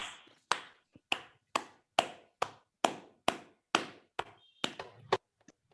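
Sparse, sharp claps from an online meeting's unmuted participants, roughly a dozen distinct hits at a steady rhythm, close and dry, with a few overlapping at the end.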